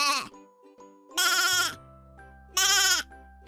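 A sheep bleats twice, loud and close, each cry a wavering drawn-out call, with a quieter low electronic tone between them.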